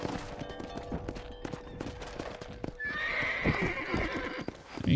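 A horse in the Red Dead Redemption video game neighs and whinnies while its hooves clip-clop steadily at close range, the calls rising clearly over the hoofbeats in the second half.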